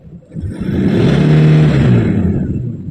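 A Toyota Vigo 3.0 diesel pickup engine revs up from idle to about 2,000 rpm and holds there, a loud, close, steady rumbling drone that swells after a brief quiet start.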